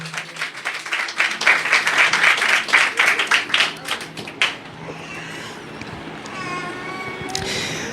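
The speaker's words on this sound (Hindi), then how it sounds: "इस यीशु के लिए जोरदार तालियां बजाएं" A church congregation breaks into loud, dense clapping that builds and then cuts off after a few seconds, followed by a quieter stretch with faint background sounds.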